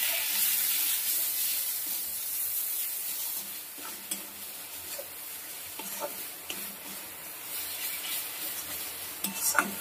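Turmeric and Kashmiri chili powder stirred in a frying pan: steady sizzling hiss with soft scraping of a utensil against the pan and occasional small clicks, close and fairly quiet, no talking.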